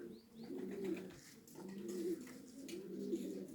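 Homing pigeons perched in an ash tree cooing: three soft, rolling coos repeating about once a second, close and fairly quiet, with faint chirps in the background.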